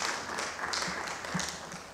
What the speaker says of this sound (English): I think they deserve a very big round of applause.